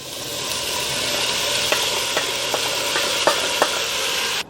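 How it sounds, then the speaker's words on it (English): Nopales cactus and garlic sizzling in a pot, a loud continuous frying hiss with a series of light clicking scrapes from stirring scattered through it, ending abruptly. "Now I'm gonna add all my nopalitos in here."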